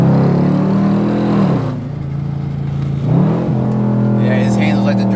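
Chevrolet Camaro SS V8 with about 100,000 miles, engine droning loud and near as it rises and falls through revs and shifts, with a few crackling exhaust pops; people talk over it.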